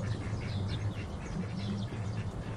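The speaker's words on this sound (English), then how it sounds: "We're now down to five drakes." Drakes, male ducks kept for sale on a small farm in Thailand, give a run of low, raspy quacks close by, busy and overlapping throughout with no talking.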